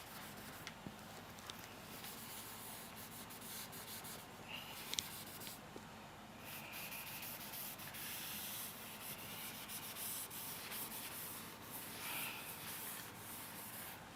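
A duster or cloth scrubs lines off a classroom board in steady, faint rubbing strokes that continue throughout, with only a few small taps and no talking.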